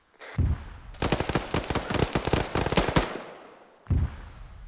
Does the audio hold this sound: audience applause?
no